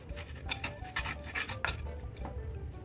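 Stone mortar and pestle grinding candlenuts for Indonesian sambal: repeated close rubbing, rasping strokes of stone on nuts in a steady rhythm, with no talk.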